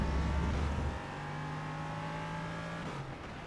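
LMP3 prototype race cars in iRacing at Road America, engines droning steadily as one car draws alongside and pulls past, a loud near roar easing to a sustained whine with no talking.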